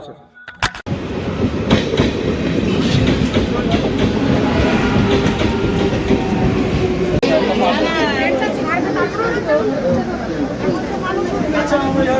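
A passenger train runs on rails, heard from onboard, with a loud, continuous rumble and rhythmic clatter of wheels throughout, while passengers chatter in the carriage.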